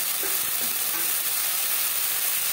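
Pumpkin stems sizzle loudly in a hot pan with tomato, ginger and green chili paste as they are stirred, a steady close hiss of frying with no voices.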